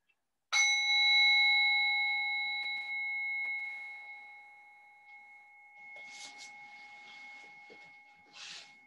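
A single bell is struck once to begin a restorative yoga pose. It sounds as a clear, pure tone that rings on and fades slowly over several seconds in a quiet room, with some soft faint rustling near the end.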